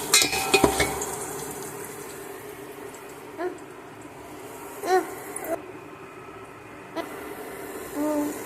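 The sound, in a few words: frying in pan with asafoetida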